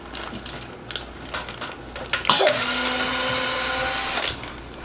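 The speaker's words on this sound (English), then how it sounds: "You're just going to pull all your screws out of the plastic" Power driver backing screws out of a plastic stock skid plate on a Traxxas UDR, a few faint clicks and handling taps, then one close, steady whine lasting about two seconds.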